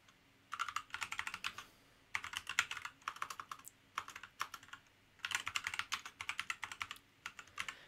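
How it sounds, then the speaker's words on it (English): Bursts of rapid typing on a computer keyboard, close and clear, with short pauses between runs of keystrokes and no talking. "it helps if I show you what I'm typing"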